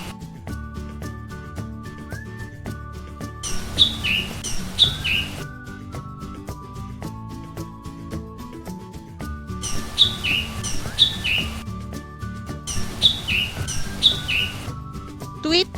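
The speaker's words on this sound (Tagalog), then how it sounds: "Ibon. Tweet, tweet, tweet, tweet, tweet," Bird chirping in short bright tweets that come in separate bursts over a backdrop of music, moderately loud and clear.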